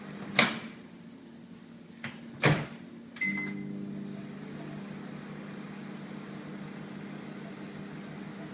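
A microwave oven heating marshmallows for marshmallow fondant: a few sharp knocks and a clunk, then a steady, moderately loud mechanical hum runs on alone to the end.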